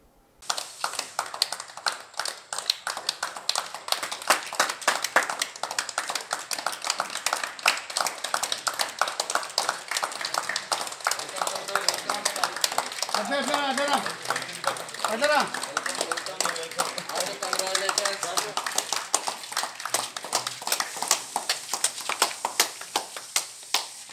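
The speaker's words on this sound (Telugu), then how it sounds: "డోన్ పట్టణంలో తన ఇంటికి చేరుకున్న ఒక యువకుడికి స్థానికులు చప్పట్లతో స్వాగతం పలికారు" Townspeople in Dhone clapping to welcome a young man recovered from COVID back to his home, a continuous crowd of hand claps throughout, with voices talking over it.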